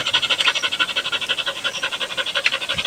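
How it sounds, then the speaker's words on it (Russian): A dog pants rapidly and rhythmically at about four breaths per second, a steady close huffing that carries on without pause and with no talking. "Пес в этом эпизоде дышит с частотой примерно 250 раз в минуту, то есть в 10 раз чаще обычного."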